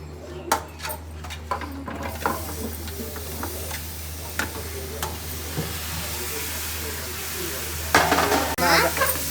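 Tomato pieces fry in a pan for a tomato pickle, with a steady sizzle under occasional sharp clinks and stirring scrapes of a spoon, close and clear, growing busier toward the end; no one talks.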